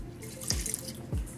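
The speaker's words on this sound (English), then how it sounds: "I might actually pour some of the remainder of the beer that I used in." Leftover beer pours into a pot of queso dip in a kitchen, a quiet liquid trickle with two soft, falling glugs and splashes. No one speaks.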